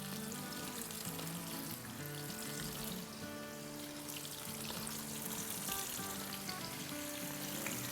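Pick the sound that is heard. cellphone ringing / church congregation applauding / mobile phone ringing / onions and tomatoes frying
onions and tomatoes frying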